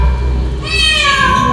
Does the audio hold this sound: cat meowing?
yes